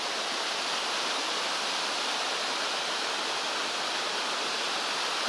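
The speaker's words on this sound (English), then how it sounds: "It's a little waterfall" A small waterfall in a bamboo forest in Korea gives a steady, dense rush of falling water, continuous and even throughout with no voices.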